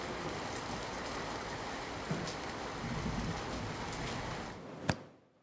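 Heavy downpour over Ahmedabad during a monsoon storm with strong wind, a steady dense hiss of rain throughout with a faint thump near the middle and a sharp crack near the end before it cuts off.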